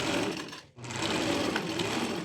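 A sewing machine runs fast and close, stitching the crotch seam of a romper, a continuous dense whirr broken by one brief pause before it resumes.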